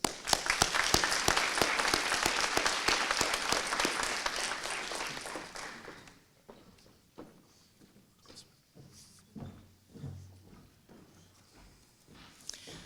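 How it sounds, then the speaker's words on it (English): A crowd applauds loudly for about six seconds at an awards ceremony, then the clapping fades to scattered claps, shuffling and quiet room noise. "just want to give y'all another round of applause"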